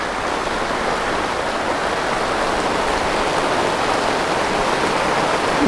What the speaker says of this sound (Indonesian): kalau suaranya mungkin agak kerosak-kerosak-kerosak itu hujan turun ya. Dari atas plastik UV